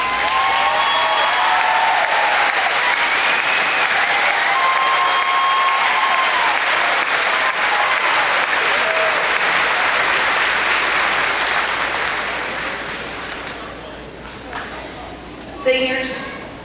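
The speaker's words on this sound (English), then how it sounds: "So will all the grandparents please stand and let us give you a round of applause?" Sustained applause from a high school graduation audience honouring standing grandparents, a dense steady wash of many hands that fades out toward the end, with a few faint voices and cheers near the close.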